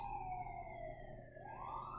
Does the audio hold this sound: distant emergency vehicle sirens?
yes